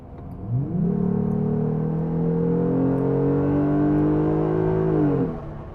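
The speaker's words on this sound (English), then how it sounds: "I'm going to hammer down the gas, see how quickly we can get up to 60" A Jeep Wrangler JL engine with an 8-speed transmission climbs steadily in pitch through a long hard acceleration from 40 to 60 mph, then drops off as it settles, heard from inside the vehicle.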